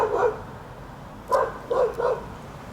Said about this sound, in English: So all I need to do is get bit by a crazy dog.